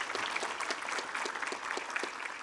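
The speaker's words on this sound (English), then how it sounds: "I'd like to give our panel a round of applause for their expert" An audience applauds a panel at a small business summit on marketing and e-commerce in Abilene, a steady wash of clapping from a room of people that continues throughout at moderate distance, with no talking.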